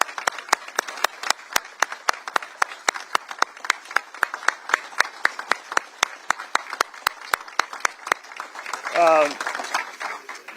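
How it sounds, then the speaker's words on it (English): An audience at a ceremony in an Atlanta VA regional office gives a round of applause, a close, sharp, rhythmic clapping that stays steady throughout and ends with a brief voice near the close. "I'd like to give them a round of applause."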